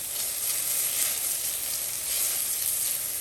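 Tomatoes added to sizzling garlic in a pan give a steady, bright, hissing fry that stays loud and even throughout, with no talking.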